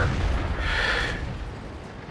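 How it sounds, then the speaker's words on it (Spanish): Explosive shell from a KV-2 tank hitting in World of Tanks, a loud boom with a rumbling low tail and a fizzing burst that fades after about a second, followed by a sharp click at the end. "Ahí va el daño a la munición explosiva del KV-2"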